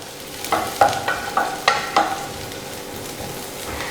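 Carrots and vegetables are stirred in a hot frying pan, with a series of about six sharp scraping knocks from a utensil against the pan over a soft, steady sizzle, close and clear, then the stirring stops.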